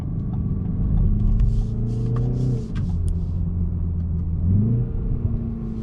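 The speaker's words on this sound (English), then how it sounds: "There's a little bit of pops and burbles from the exhaust there." A 2020 BMW 330i idles and revs with a deep steady exhaust rumble, the engine note rising and falling with light burbling crackles scattered over it, close and loud with no talk.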